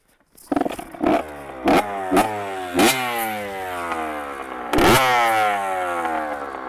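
A Honda CR80 two-stroke motorcycle engine being broken in starts up and is blipped several times, rising in sharp revs over a crackling idle, close and loud, with no talk.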